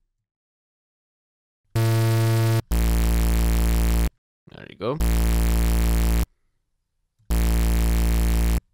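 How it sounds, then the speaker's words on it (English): Reese bass built in Phase Plant, with a sine sub from an analog oscillator and a distortion plugin: loud, buzzy sustained bass notes in separate held bursts with gaps between them, and a brief voice between the notes. "And then let's load a distortion plugin."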